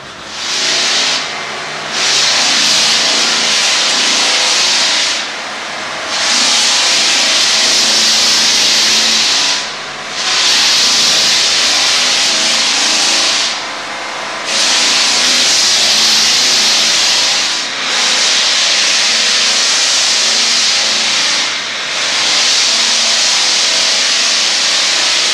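Big 220-volt belt sander hooked to a high-powered vacuum works a hardwood floor, a loud steady hissing roar broken by several brief dips as the sander is lifted or shifted, with no voices.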